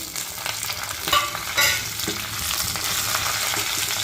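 A tempering of mustard seeds, cumin, dried chillies, curry leaves, urad dal and garlic crackles in hot oil, with steady close sizzling and spluttering pops as it is stirred, and no talk.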